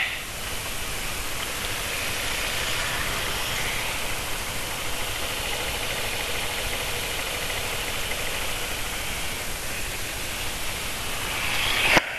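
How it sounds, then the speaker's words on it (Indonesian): Motorcycle engine running after an Amsoil Signature oil change, a steady close idle drone with a rough, even rumble for the whole stretch, no talking. "suaranya motor setelah pakai Amsoil Signature"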